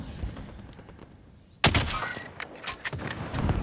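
Video game gunfire cracks out in a sharp burst, with several close, loud shots clustered after a quiet stretch and more echoing reports following, no talking.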